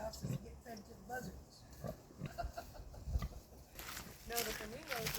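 Wild boar grunting and oinking in short irregular bursts at close range outdoors, mixed with people talking throughout.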